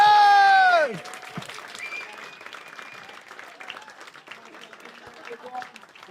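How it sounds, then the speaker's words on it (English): Applause and clapping from a comedy club audience as a comedian is brought on: a loud sung or musical burst cuts off, then scattered, moderate clapping carries on at an even level with a slight swell near the end. "There's going to be loads of noise. We'll be doing clapping."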